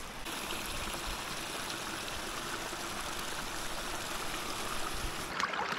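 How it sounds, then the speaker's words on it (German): A forest stream flows near its spring on a cold outdoor overnighter, a steady close rush and trickle of water running continuously without any talk. "Wir sind jetzt den Bach da hoch entlang gelaufen und hier ist jetzt die Quelle."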